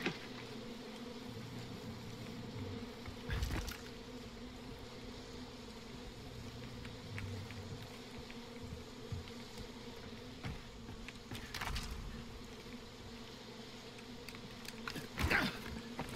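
Bees buzz steadily in the Far Cry 5 video game, a continuous droning hum over a low background with occasional louder swells and soft clicks, and nobody talks.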